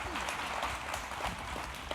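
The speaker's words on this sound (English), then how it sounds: "A round of applause for them." A conference audience at a 2025 economics session applauds steadily and densely for about two seconds, a continuous wash of many hands clapping at close range with no pause.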